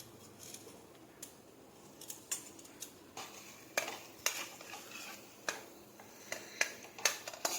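A spoon stirring jaggery into a roasted gram flour mixture in a metal pan: repeated light clinks and scrapes at an irregular pace, quiet and close, with no voices.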